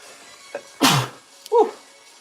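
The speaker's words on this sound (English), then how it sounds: "I got to sneeze." A single loud, close sneeze bursts out, followed a moment later by a short voiced exhale or grunt, in an otherwise quiet room.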